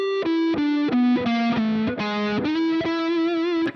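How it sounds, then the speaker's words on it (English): Distorted electric guitar plays a blues lick worked into an arpeggio with passing tones and a half-step slide, about a dozen sustained picked notes in quick succession, some gliding in pitch, close and loud with no talking. "Let's take another blues lick, maybe add some other passing tones to it."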